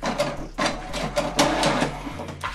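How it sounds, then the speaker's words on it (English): An HP Deskjet 2700-series all-in-one printer prints a wireless information page: rhythmic mechanical whirring and carriage strokes repeat about every half second over a low motor hum, close and steady, with no talk. "So what it's going to do now is going to print the wireless information."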